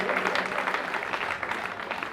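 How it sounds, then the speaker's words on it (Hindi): Audience clapping to welcome guests at a Rath Yatra festival programme in Vaishali Sector 3, a steady dense patter of many hands sustained at moderate volume throughout. "तालियों से सबका स्वागत करते रहिए।"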